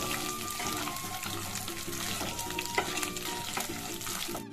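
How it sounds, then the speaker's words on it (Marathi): Ginger-garlic paste and curry leaves fry in hot oil while being stirred in a pan for a stuffed brinjal curry, giving a steady close sizzle with light scraping throughout, mixed with faint musical tones and no talking. "आता टाकू आपण 1 चमचा अद्रक लसूणचा पेस्ट, ते टाकून त्याला हलवून घ्यायचं आपल्याला"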